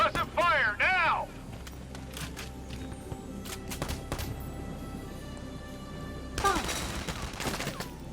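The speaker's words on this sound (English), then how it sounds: "We need suppressive fire now!" Suppressive gunfire in the video game Valkyria Chronicles 4: a voice speaks briefly at the start, then scattered shots and impacts follow, building to a dense, louder volley of rapid fire near the end.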